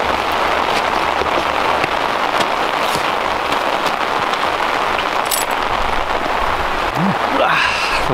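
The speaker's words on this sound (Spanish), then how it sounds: "al final se ha puesto a llover bastante" Heavy rain falls steadily in an outdoor city setting, a dense, loud, continuous hiss and patter of drops on the ground, with a voice faintly audible underneath near the end.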